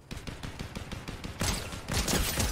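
Flapjack rifle in Fortnite firing a fast rhythmic stream of shots, followed by heavier, denser bursts, close and fairly loud with no talk.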